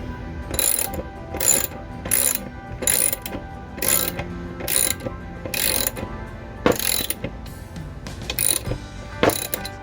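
A hand ratchet snugs a fastener on the upper right control arm of a C3 Corvette during bushing and ball joint installation. Around ten short, close, sharp bursts of clicking follow each other in a steady rhythm.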